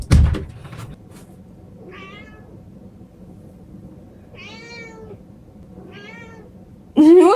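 A cat meows several times, short plaintive cries spaced a second or two apart, ending with a louder, longer meow close by after a thump.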